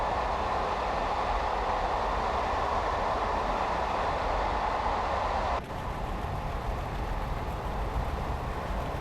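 A Class 50 diesel locomotive runs on the tracks between Oxford and Paddington in Train Simulator, a steady, loud rolling rumble of wheels and rails that continues unbroken, with a slight shift in tone partway through.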